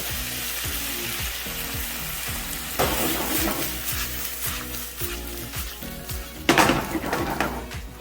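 Chicken stir fry sizzling and frying in a pan after honey and low sodium soy sauce are added, a steady loud sizzle with bursts of stirring and scraping, no talking.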